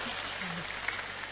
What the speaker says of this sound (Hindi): वो ताली नहीं बजानी है ऐसी बात पे।